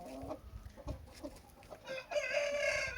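Rooster and hens on a poultry farm, short nearby clucks and calls scattered through, then a loud sustained crow from a rooster at the end, with no talking.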